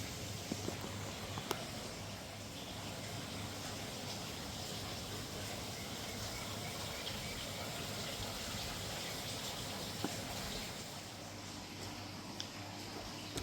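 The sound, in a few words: garden water feature trickling outdoors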